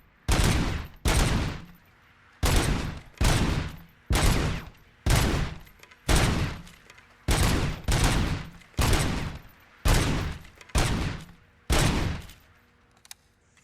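Loud, close gunfire in the Robocop: Rogue City video game, delivered as about ten evenly spaced bursts of rapid automatic fire separated by short silent gaps, with no talking.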